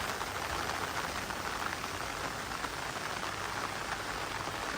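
Steady rain patters onto an umbrella overhead, a dense, even hiss of drops that stays close and constant throughout, with no voices.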